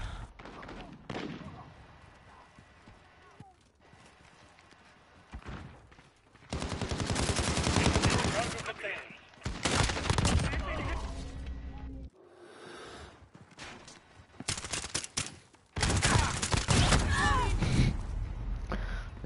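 Shotgun blasts in the PS4 shooter Shoot the Ship, coming as loud bursts of gunfire in clusters between quieter stretches.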